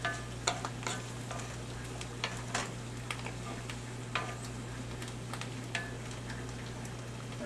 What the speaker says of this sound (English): I've got a little bit of green pepper here that I've diced up. I'll mix that in with the mushrooms